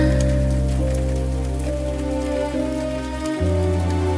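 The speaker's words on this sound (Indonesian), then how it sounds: "Apakah kau juga mendengar hujan ini?" Rain falls through a rainy night in the city as a continuous, even patter under a sustained, droning lofi music bed.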